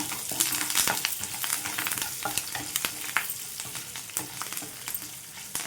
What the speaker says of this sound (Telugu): మంచి కలర్ వచ్చేంత వరకు ఫ్రై చేసుకోవాలండి